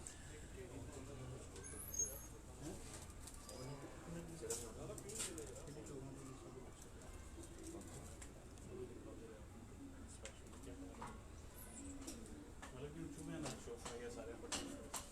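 Pigeons cooing on a Rawalpindi rooftop, birds kept by household staff, soft repeated low coos through a quiet outdoor background with voices talking now and then.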